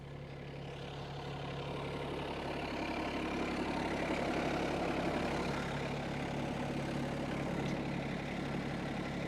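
A tractor engine idling steadily with a low, even rumble and constant hum, heard close by and alone.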